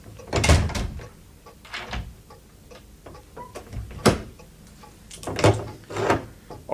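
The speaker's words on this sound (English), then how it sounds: "I shall lock and bolt the door once you're outside." A door is shut, locked and bolted in a quiet interior, heard as a few close, sharp knocks and clunks of the latch and bolt with short gaps between them and no voices.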